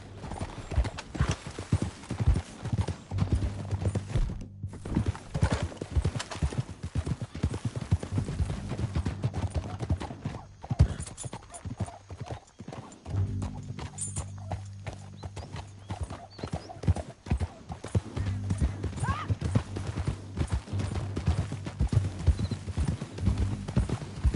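In the video game Red Dead Redemption 2, rapid, steady clip-clop of horse hooves at a gallop, continuous and fairly close, with a horse whinnying and occasional voices underneath.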